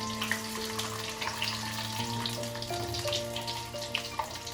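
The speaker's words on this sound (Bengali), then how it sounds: "এভাবে ভালো করে আমি পটলগুলো ভেজে নেব।" Pointed gourd (potol) frying in hot oil in a wok: a steady, continuous sizzle running throughout beneath sustained background music.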